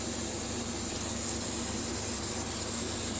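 WD-40 sprayed from an aerosol can into a toilet, a continuous close hiss that holds steady for a few seconds with no talk.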